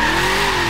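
Car drifting in the video game Forza Horizon 3, with a loud, sustained engine drone and faint tire hiss running steadily through the short moment without a pause, no voices over it.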